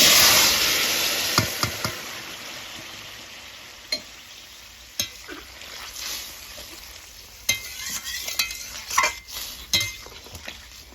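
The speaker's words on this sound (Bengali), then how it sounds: "তো চলো এবার তরকারিটা ঢেলে দিই" Katla fish and bean curry is poured into a hot pan, bringing a steady sizzle broken by repeated scraping and clinking of a utensil against the pan, with no talking.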